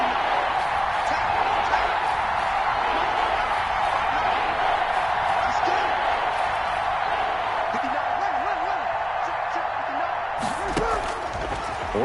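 A stadium crowd at an American football game roars steadily and loudly throughout, a dense wash of cheering voices with a few brief thumps and whoops rising near the end.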